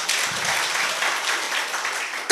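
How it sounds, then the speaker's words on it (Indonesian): A congregation at a revival service in a church in Lampung, Indonesia, bursts into dense, steady applause for a couple of seconds, close and fairly loud. "Tepuk tangan buat Tuhan Yesus."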